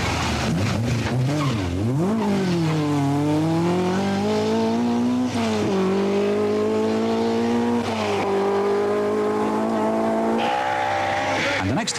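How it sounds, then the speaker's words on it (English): A Vauxhall Chevette rally car at the 1982 Manx Rally roars through close by, its engine rising and falling through gear changes with a brief tyre squeal, loud and continuous for the whole passage. "Russell Brookes' Andrews Heat for Hire Chevette is through next."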